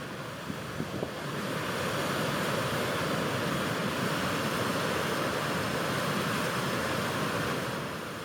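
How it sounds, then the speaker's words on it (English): Steady, rushing water roars without pause, a dense broadband wash like surf or a cascade, close and continuous for the whole stretch. "For a moment there is only water, moving, falling, breathing, and we listen."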